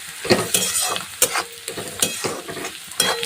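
Kande pohe, flattened rice with onions, is stirred and mixed in a hot pan, with repeated scraping strokes in an uneven rhythm over a close, constant sizzle.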